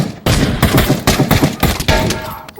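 Sniper rifle fire in the VR shooter Pavlov VR, a run of loud, sharp shots and echoing blasts packed close together in rapid succession.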